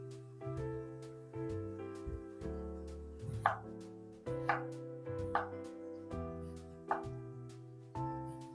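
A knife chops through a single onion on a cutting board in a home kitchen, giving several sharp, separated cuts at an uneven pace over steady background music.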